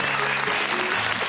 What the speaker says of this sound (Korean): 위로의 박수 부탁드립니다.